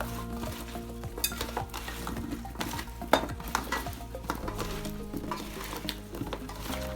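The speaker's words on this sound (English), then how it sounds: "we're just going to mix it up just so that everything gets coated" Potatoes sprinkled with oregano being tossed and mixed to coat them, a busy run of soft scraping, rustling and light clinking strokes, fairly close and continuous with no voice.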